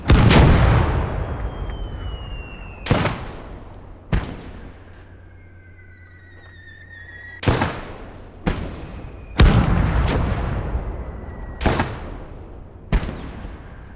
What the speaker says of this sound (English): We are within range with the mortar. You can see the accuracy is awful.